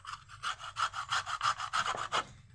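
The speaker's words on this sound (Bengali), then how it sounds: "গ্রেটারের এরকম ছোট ফুটো দিয়ে কিন্তু কমলার খোসাটা গ্রেট করে নিতে হবে।" Orange peel is grated on the small holes of a grater for an orange cake, producing about eight evenly spaced, rasping back-and-forth strokes, close and fairly loud.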